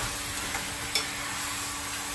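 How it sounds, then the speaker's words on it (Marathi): Mutton being stirred in a pan with very little oil, a steady faint sizzle under soft scraping and one brief clink, with no talking. "आता आपलं ऍड करते मटन. पहिले याला मस्त मिक्स करून घेऊया"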